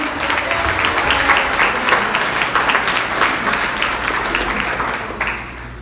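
A church congregation claps in steady, dense applause through a Sunday evening worship service, loud and sustained with many hands at once, tapering slightly at the very end.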